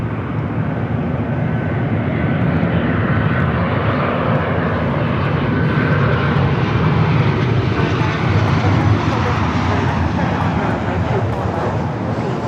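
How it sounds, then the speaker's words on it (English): A Delta Boeing 737 lands on runway 24 right, its jet engines producing a continuous broad roar at moderate distance. The noise stays steady and rumbling for the whole stretch, with no talk. "Delta 737 landing 24 right."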